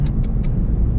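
A car rolls along steadily, its engine a continuous low rumble close by, with a few brief bright rattling bursts early on over the drone.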